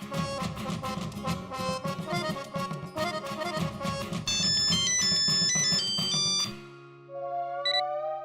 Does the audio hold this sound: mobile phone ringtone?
yes